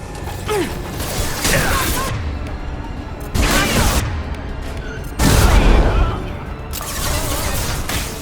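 Gunfire in the video game Mass Effect Legendary Edition: loud bursts of shots and booms with mechanical clanks, separated by brief lulls and layered over a dense combat soundscape.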